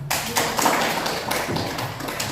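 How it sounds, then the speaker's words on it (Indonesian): An audience at an Islamic religious talk gives a continuous burst of hand clapping, a dense patter of many claps at even loudness throughout. "Oke, aplaus."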